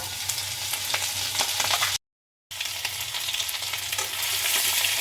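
Whole cumin, a bay leaf and grated ginger crackle in mustard oil as they are stirred, a dense close sizzle interrupted by a brief silent break before the frying resumes steadily.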